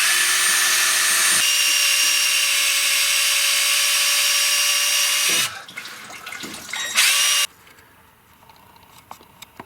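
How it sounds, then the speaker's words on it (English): A power drill drills into the engine of a 1957 Chevy, whining steadily for several seconds at close range, stops, then briefly buzzes again before fading to quiet clatter. "I'm about to find out if it's going in straight"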